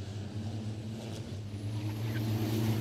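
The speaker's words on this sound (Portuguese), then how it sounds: "Mercedes está tentando ultrapassar ali o Scania do Roberval Andrade" Mercedes and Scania racing trucks in a Fórmula Truck race roar past, heavy engines droning loud and continuous with a rising tone.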